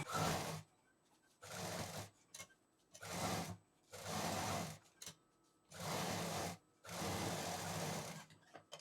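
A sewing machine stitching a potli bag runs in about seven loud whirring bursts, each lasting around half a second to a second, separated by short pauses, close up with no talk.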